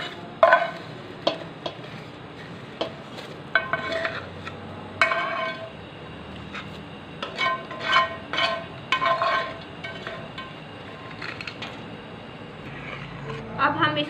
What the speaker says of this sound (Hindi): दूध को बॉयल आ गया। अब हम इसमें जो सेवइयाँ हमने रोस्ट की हुई थी वो वाली